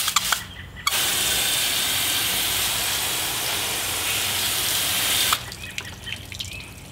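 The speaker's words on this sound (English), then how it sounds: "When you grab a hose and spray down the window," Garden hose spraying water onto a car window, a loud steady hiss of water striking glass for several seconds, starting and stopping abruptly, with quieter handling noises before and after.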